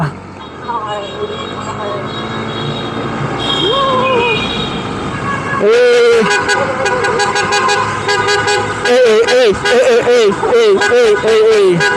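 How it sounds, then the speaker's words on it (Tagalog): Several short car horn honks sound after the midpoint, a loud repeated tooting over road noise, with people talking and shouting throughout. "Sabi nila bubusina ka daw dito pag dadaan ka dito."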